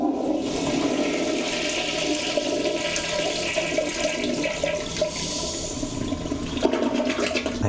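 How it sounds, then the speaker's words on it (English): A toilet aboard a ship flushes in one loud, close rush of water that gurgles and swirls for several seconds before draining and tapering off. "Let's see the flushing power."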